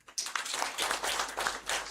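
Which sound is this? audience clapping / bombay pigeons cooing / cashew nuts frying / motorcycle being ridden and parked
audience clapping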